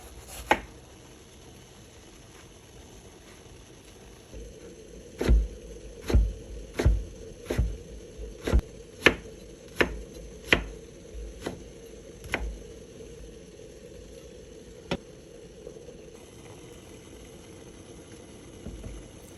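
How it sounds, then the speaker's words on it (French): A knife cuts a peeled mango into thin slices on a board: a short run of about a dozen crisp, evenly spaced chops, close and distinct, with a lone cut after a pause and a quiet background otherwise. "Donc je l'épluche, je la coupe en fines tranches et je la réserve"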